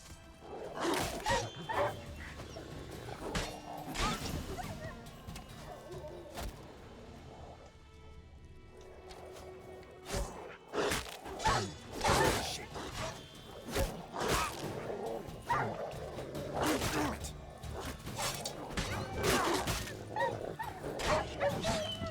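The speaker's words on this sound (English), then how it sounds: "Hear the woof woof, the barking of the dogs" Several dogs in the Witcher 3 game bark and yip repeatedly in sharp irregular bursts, some whimpering between, loud and close amid game sounds.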